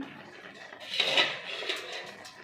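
A metal lid comes off a pot of lau (bottle gourd) payesh: a bright clatter of metal with a brief rattle that fades into faint kitchen clinks.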